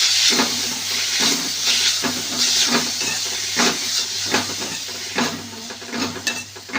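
Grated radish sautéed in a hot iron wok with tempering, a steady sizzling hiss broken by regular scraping stir strokes roughly every half second, close and fairly loud with no talking.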